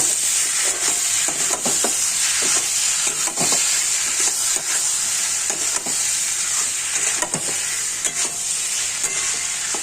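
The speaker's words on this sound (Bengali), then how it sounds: "এবার পটল আর আলুটা দিয়ে ভালো করে কষতে থাকবে।" Pointed gourd and potato stir-frying in a pan, a constant bright sizzle close up with repeated scraping strokes of a spatula breaking through at irregular intervals, no speech.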